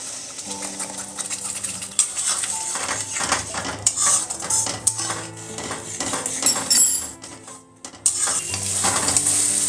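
Spice paste for a Bengali fish curry is stirred in a hot pan. A spatula scrapes and clinks against the metal in irregular strokes over a soft sizzle, with no talking.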